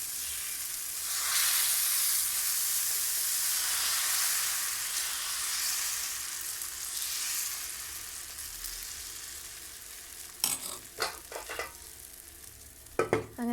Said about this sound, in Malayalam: അങ്ങനെ അപ്പം റെഡിയാക്കിക്കൊണ്ടിരിക്കുകയാണ്